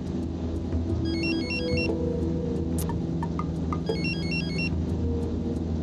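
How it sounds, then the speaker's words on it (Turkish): A phone rings in two short electronic ringtone bursts, a couple of seconds apart, over a low steady rumble in an indoor scene from a Turkish TV series. "Telefonun çalıyor."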